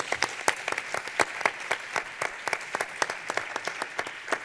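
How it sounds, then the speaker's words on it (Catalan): Sparse applause from a modest audience at a conference on project-based learning and entrepreneurship, with individual claps clearly separated in an uneven rhythm, fairly light and close throughout. "sí, els hauríem d'aplaudir."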